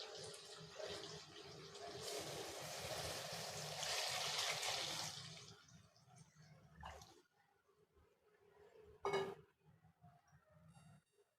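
Tamarind water poured into a pan of village-style fish curry, a broad sustained splashing pour that swells over the first five seconds, then thins into softer trickles and a brief sharp splash near nine seconds.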